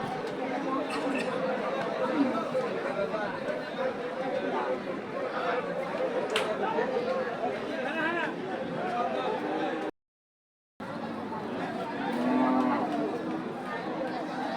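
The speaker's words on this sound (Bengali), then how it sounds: "মহিষ" Buffalo at the Paragram cattle market, with lowing and moos rising over a busy crowd's chatter and nearby voices, a short dropout in the middle, then the bellowing returns close by.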